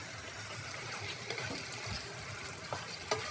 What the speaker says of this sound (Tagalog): sorry guys, nagluluto kasi ako. Yung background ko.